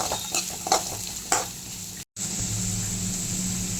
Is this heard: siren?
no